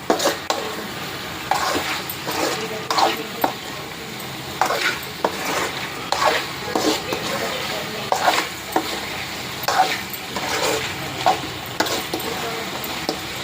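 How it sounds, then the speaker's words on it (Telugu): A utensil stirs chicken gravy with masala in a pot, making repeated scraping and clinking strokes in an uneven rhythm over a soft sizzle, close and fairly loud. "అంతా మసాలా కలిసేంత వరకు బాగా కలిపేసుకోవాలి."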